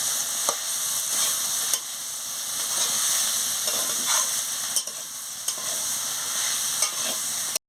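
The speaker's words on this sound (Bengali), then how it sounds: "সর্ষে বাটা, শুকনো লঙ্কা বাটা দিয়ে দিচ্ছি, দিয়ে ভালো করে আনাজের সঙ্গে কষিয়ে নিচ্ছি।" Vegetables and tender telakucha leaves fry in a pan with mustard paste and dry chilli paste, giving a loud, steady sizzle and hiss, broken by regular scraping stirs of the spoon.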